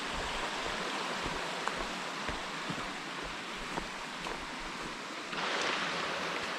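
A mountain brook runs steadily beside a Catskills hiking trail, its broad, even rush of water continuing throughout without pause and swelling slightly louder near the end.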